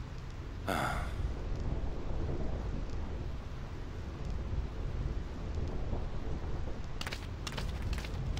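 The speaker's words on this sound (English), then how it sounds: "This storm never stops." A heavy thunderstorm with steady dense rain throughout, a sharp thunder crack near the start and crackling bursts later on, loud and close with no talk.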